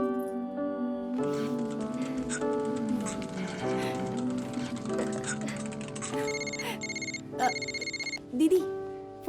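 A telephone rings with a steady electronic ringtone pattern over soft background music, moderately loud, with a couple of brief clicks near the end.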